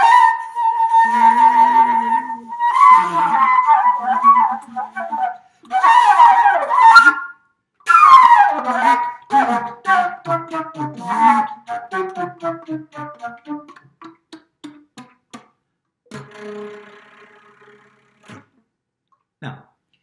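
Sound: improvised flute music

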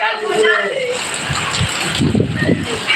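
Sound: morning rain with strong wind

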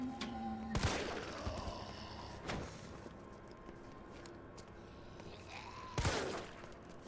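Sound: gunshots, video game Resident Evil 3 Remake

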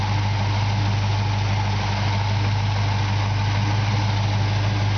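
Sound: 1948 Ford Coupe engine idling

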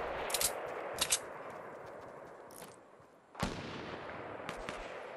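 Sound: sniper rifle gunfire in Fortnite video game

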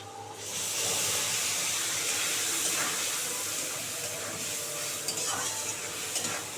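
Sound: spice paste frying with fried potatoes in a pan

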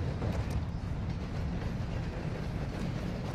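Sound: train in the video game DMZ

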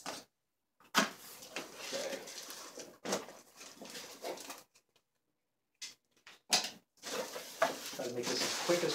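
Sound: dog running up and down steps

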